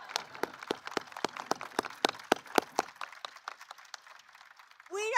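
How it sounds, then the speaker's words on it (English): Clear, evenly spaced hand claps at a teachers of the year ceremony, about twenty crisp strikes that thin out and fade before a voice begins at the end. "I'm going to clap for you."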